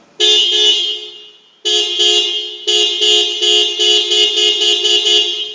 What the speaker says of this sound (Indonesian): Bunyi klaksonnya pakai klakson Innova.